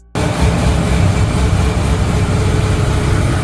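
A Corvette ZR1 engine idles on a dyno, a loud, steady, broadband low rumble that starts abruptly and holds evenly, close up.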